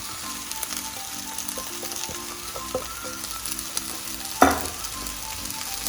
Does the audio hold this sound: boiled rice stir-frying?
yes